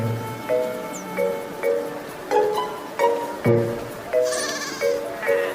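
Repeated bleats from a goat in a village, about eight short wavering calls in a steady rhythm, close and clear with no talk.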